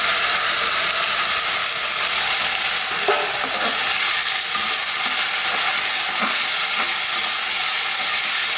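Raw rice sautéing in a pan for pongal, a steady loud hissing sizzle throughout with a few faint stirring scrapes near the middle and end.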